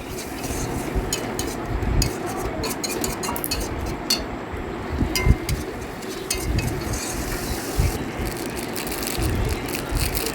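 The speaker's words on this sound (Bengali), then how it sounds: "মশলাটাকে ভালোভাবে কষাবো যতক্ষণ না তেল ছেড়ে দিচ্ছে" Spiced masala for a big pomfret kalia stirred and fried in a pan until the oil separates, with steady close scraping and clinking of a utensil against the pan over a continuous low sizzle.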